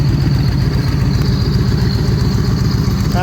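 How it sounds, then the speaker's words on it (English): Supercharged 2013 Victory Cross Country motorcycle engine running steadily up close, a loud continuous rumbling throb with a hissing, blowing supercharger whine layered over it, no voices. "she definitely has a different sound to her with that supercharger. You can hear all that supercharger noise blowing on there"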